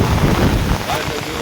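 Heavy rain pours steadily across the hills around Machal in the Konkan, a dense, loud hiss with wind buffeting the microphone and a faint voice in the background.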